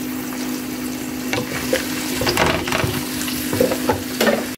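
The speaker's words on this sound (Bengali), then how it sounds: "সব কিছু আমি বেশ কিছুক্ষণ কষিয়ে নেব" Potatoes fry with turmeric and chilli powder in a pan as they are stirred. A steady close sizzle runs throughout, with scraping and clattering stirring strokes growing busier toward the end over a faint constant hum.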